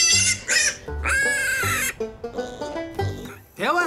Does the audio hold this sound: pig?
yes